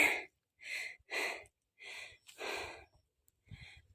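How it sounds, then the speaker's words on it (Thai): A runner on a hot, rocky uphill mountain trail during a 25 km run pants heavily: short, loud, close gasping breaths come in uneven bursts separated by brief pauses. "หอบเป็นลูกหมาเลย นะคะ"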